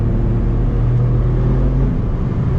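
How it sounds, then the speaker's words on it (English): An Alfa Romeo Giulia Quadrifoglio Nürburgring edition, with its Ferrari-based engine, idles with a deep, steady rumble and low harmonic drone, close and continuous with no speech. "it's based off of Ferrari engine, which is why the sound is so unique"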